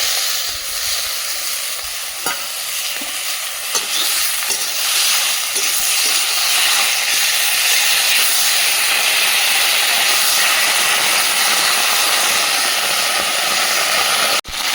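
Onion stalks, beans and potatoes frying in very hot oil in a wok, giving a loud, steady sizzle and hiss throughout with occasional stirring scrapes, no talking.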